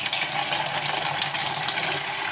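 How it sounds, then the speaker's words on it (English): Water pours steadily into a Pinter home-brewing vessel, a continuous close splashing and gushing fill with no voices. "I'm going to put some water in this brew"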